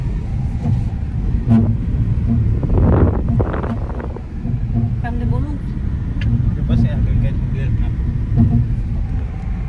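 A car drives along, its engine and road noise forming a steady low rumble with buffeting wind against the microphone, while people talk inside.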